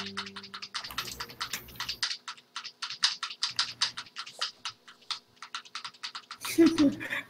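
Rapid clattering keystrokes on someone's computer keyboard, a close, busy run of crisp taps with short pauses, while people talk in the background.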